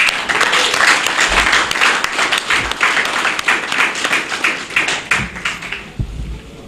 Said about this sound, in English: Another round of applause for the Father.